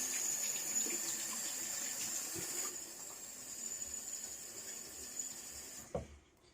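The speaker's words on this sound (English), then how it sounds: "All right, cold water rinse." Water runs steadily from a tap into a sink, a constant splashing hiss that stops abruptly near the end.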